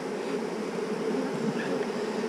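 Honey bees buzz around swarm traps in a steady, dense, close hum that holds without a break, with no talking.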